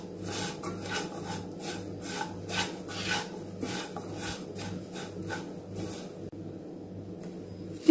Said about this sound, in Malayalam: നന്നായിട്ട് ഒന്ന് മിക്സ് ചെയ്ത് കൊടുക്കുക